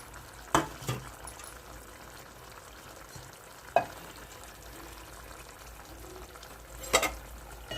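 Spiny gourd pieces go into a pan of mutton curry and are stirred while cooking, with a soft continuous sizzle under three sharp scraping knocks of the spoon against the pan, close and moderately quiet.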